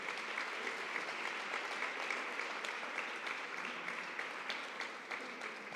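Strong, steady applause from an audience at a town hall ceremony honouring athletes, a dense, even wash of clapping with no pauses, heard from some distance.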